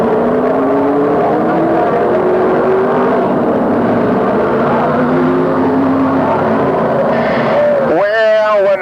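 Three dirt sportsman race cars run side by side down the home straightaway of a dirt oval, engines roaring loud and sustained with shifting pitch, and a brief rising whine near the end.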